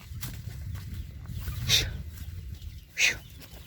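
A few chickens give short, faint clucks at moderate distance over steady low outdoor rumble in a rural garden.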